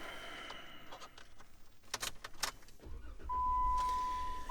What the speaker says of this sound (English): if we start up the vehicle now